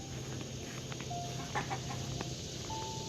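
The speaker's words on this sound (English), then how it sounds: "I've got chickens out everywhere." Loose chickens cluck around a homestead garden, sounding as several close, clear calls and short squawks scattered through the clip over steady outdoor background noise.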